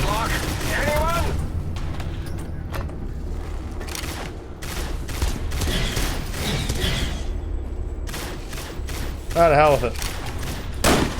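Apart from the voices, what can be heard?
weapon gunfire during an attack, from the video game Fallout: New Vegas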